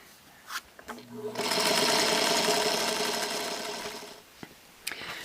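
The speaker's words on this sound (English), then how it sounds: "Flip it and sew on line 3." A sewing machine stitching quilt fabric in a sew-along: a few short clicks, then a loud continuous whirring run of about three seconds, tapering off and followed by more handling clicks.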